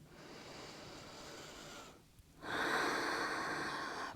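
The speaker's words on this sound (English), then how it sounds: "Breathing here." Slow breaths during a yoga stretch for menstrual cramp relief: a soft, steady breath, then a brief pause, then a louder, fuller airy exhale lasting several seconds, close and with no talking.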